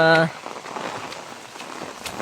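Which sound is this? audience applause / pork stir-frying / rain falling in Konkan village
rain falling in Konkan village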